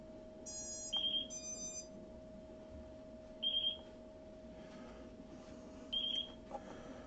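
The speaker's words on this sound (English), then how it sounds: "I have to get the transmitter into bind mode first, which you hear beeping" A quadcopter radio transmitter beeps in bind mode: three short, clear electronic beep bursts spaced a few seconds apart, fairly faint over a steady background hum, with no talking.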